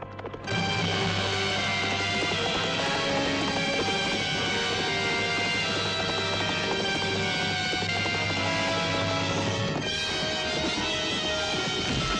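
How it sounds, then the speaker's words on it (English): A horse gallops in a 1962 fantasy adventure film scene, with steady clip-clopping hoofbeats running throughout beneath a loud, dense orchestral score. "So the horse is swift."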